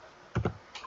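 Typing on a computer keyboard during a Steal a Brainrot gaming session, a quick pair of soft key clacks followed by another couple of taps a moment later, close and fairly quiet with no talk.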